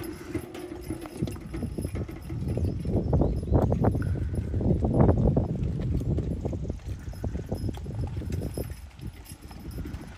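A dappled Percheron-Belgian draft cross gelding walks with steady, heavy hoof clops at close range, the beats continuing alone and fairly loud throughout.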